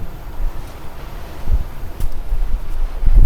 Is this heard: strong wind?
yes